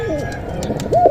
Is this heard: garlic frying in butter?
no